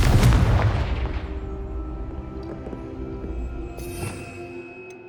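A Confringo fire spell explodes in the video game Hogwarts Legacy, a loud boom at the start that decays into a rumbling tail, followed by faint crackles and a brief bright shimmer.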